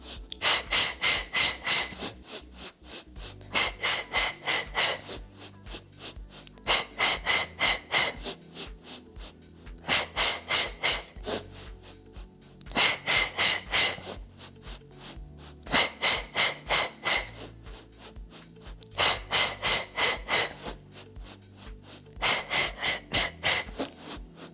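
Rhythmic forceful breathing during a Pilates hundreds exercise, eight repeated sets of quick pulsed breaths in short bursts separated by brief pauses, close and loud with no talking.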